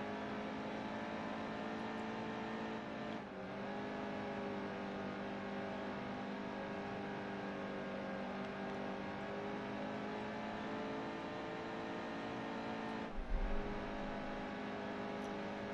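Race truck engine in NASCAR Heat 2 on the Eldora dirt track, a steady sustained drone held at high revs with brief dips in pitch, continuous and fairly quiet.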